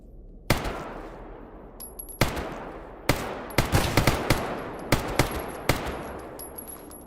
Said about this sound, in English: Tell just by the sound of my bullets hitting him.